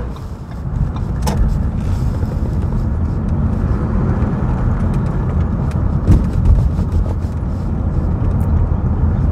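Ford Focus Electric car driving on the road, a steady loud rumble of tyres and road noise heard from inside the cabin, continuous with no talking.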